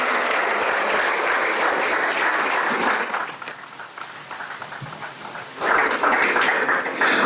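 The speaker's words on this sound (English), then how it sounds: "Can we have a huge round of applause for all our panelists" Audience at a startup ignition cell inauguration applauds its panelists with dense, steady clapping that fills the room, dipping slightly midway before swelling again to full strength.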